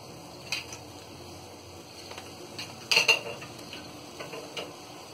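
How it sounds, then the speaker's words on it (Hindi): Metal pot and utensil clinks sound as vermicelli for faluda is tipped into a pan of boiling water, a few sharp clatters, the loudest near the middle, over a faint kitchen background. "ये देखिए, पानी खौल गया है। अब हम इसमें सेवइयां डाल देंगे।"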